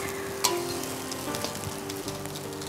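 Egg fried rice with small scrambled egg pieces heating in a pan, giving a steady soft sizzle and crackle throughout with a few light clinks, no voices.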